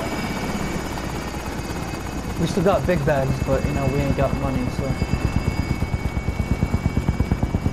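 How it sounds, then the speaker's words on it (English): A helicopter in Call of Duty: Modern Warfare approaches, its rotor thumping steadily and growing louder partway through, while a player talks over it. "I'm gonna just grab the helicopter, too."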